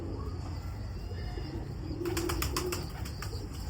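Pigeons kept by Lahore fanciers coo softly amid steady background noise, with a burst of wing flapping and low throaty calls in the latter half.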